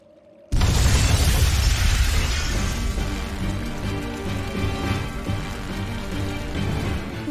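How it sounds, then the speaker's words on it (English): An explosion of flamestone, sulfur and oil in the video game Tales of Berseria, a sudden loud boom erupting from near silence, followed by a sustained crackling, rumbling roar of fire and debris that stays loud to the end. "Tools of flamestone, sulfur, and oil. Those will explode."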